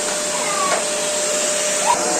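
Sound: vacuum cleaner running

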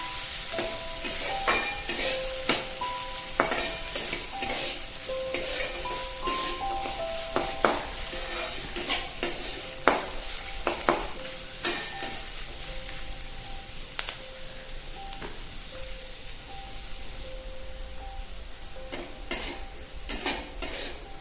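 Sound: onion frying until golden brown

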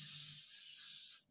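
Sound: cooking spray sprayed onto a baking pan

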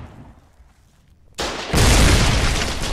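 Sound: explosion of fired round, Foxhole video game

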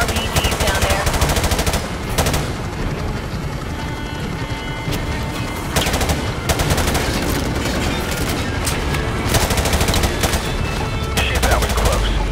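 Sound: machine gun fire in a war zone

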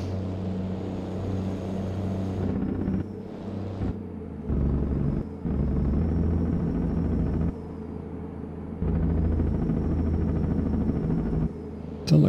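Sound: helicopter in video game American Truck Simulator

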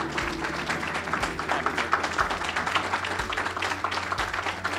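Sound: audience applause for Bob Carr

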